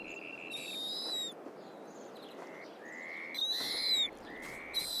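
A snowy owl calls with a series of high, thin, drawn-out notes, several repeated in short bursts, fairly close over a faint steady background hiss.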